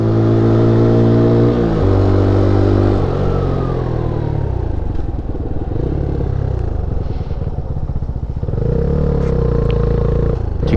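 A Peugeot PM-01 motorcycle climbing the Mont Faron road, its engine revving hard and rising in pitch through the gears, easing off midway and then pulling up loud again near the end.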